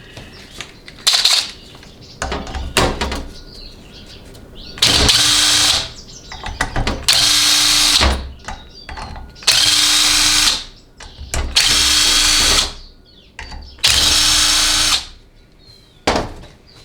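Bursts from a power tool backing out bolts from a 6L80E transmission valve body from an early 2006-2010 unit: five loud, steady whirring runs of about two seconds each, separated by short pauses with small clicks and handling sounds, close up.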